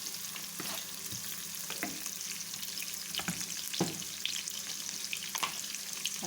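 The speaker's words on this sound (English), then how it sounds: "So all these onions, I'm going to soak it with the cooking oil." Onions frying in cooking oil for a rice lunch, a steady soft sizzle with irregular scrapes and clinks of stirring, close and moderately quiet, no talking.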